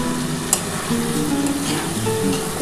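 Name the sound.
onion and capsicum frying in pan for dry chili paneer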